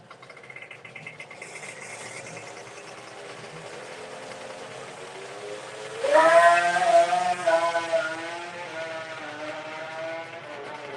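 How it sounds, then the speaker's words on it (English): A 2-stroke Nostalgia Pro Stock drag bike engine at a drag strip test day, a distant buzzing rasp that builds, then snaps into a loud, sharp high-pitched wail as it revs and pulls away. "Regularly one of our quicker runners at our run that he runs with the 2-stroke motor."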